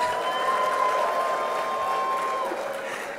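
Applause from a graduation congregation crowd at a university ceremony, a steady dense patter of clapping that holds evenly throughout and begins to thin toward the end, with a faint sustained tone running beneath.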